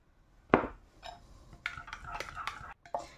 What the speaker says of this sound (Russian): Сейчас размешаю.